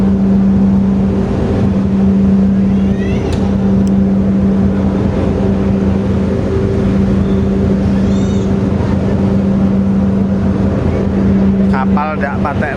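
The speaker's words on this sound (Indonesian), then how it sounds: "ini kapal udah mulai berjalan" A ferry pulling away on its crossing to Tanjung Mas port in Semarang, its engines giving a loud, steady low drone and hum throughout, with faint voices and chirps scattered over the top.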